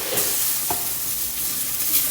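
A steady, fairly loud sizzle of burgers frying in olive oil in a big skillet, with a faint stir or scrape partway through, continuous and without talk.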